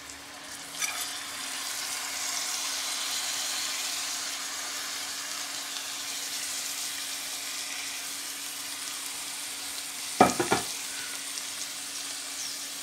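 Broccoli and garlic fry in a pan with a steady sizzle that runs throughout, plus a few clatters from stirring near the start and toward the end.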